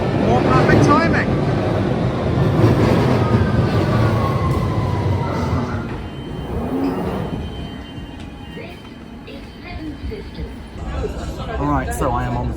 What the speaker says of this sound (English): I am on the train to Clapham Junction